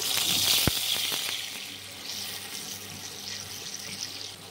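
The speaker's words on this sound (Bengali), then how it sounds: "এতে একটু জল দিয়ে দিচ্ছি।" Water poured into a hot pan of sizzling tempered spices and ginger for a Bengali doi potol curry; a brief sharp splash and hiss settle into steady soft bubbling and frying, nearby and moderately loud, no talk.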